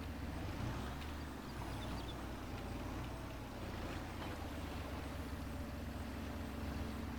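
A small tractor's engine drones steadily in a farming video game as it pulls a heavy weight, a continuous low rumbling hum at even loudness with no talking.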